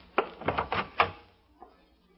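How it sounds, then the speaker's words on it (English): A door opens in an old-time radio drama, a series of close wooden knocks and clunks followed by a faint softer thud. "Open the door and I'll be right in."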